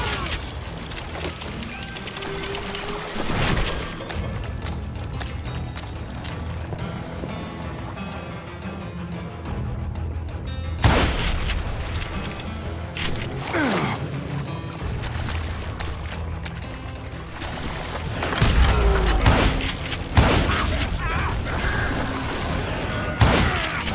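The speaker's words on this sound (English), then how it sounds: "a fusillade of bullets come raining down from our house" Gunfire in the Western shooter Call of Juarez: Gunslinger, with a fusillade of bullets raining down from a house: loud, sharp shot cracks and booms at irregular moments over a dense, rumbling background of battle noise, no voices.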